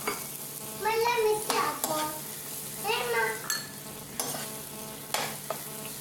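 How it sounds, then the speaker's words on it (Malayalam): Spoon stirring and scraping potatoes into a spice paste in a hot pan, with sizzling frying underneath and several rhythmic scraping strokes close by, no talk. "ഇത് പൊട്ടറ്റോ ഇതിലോട്ട് തട്ടി എല്ലാം കൂടെ മിക്സാക്കി എടുക്കണം"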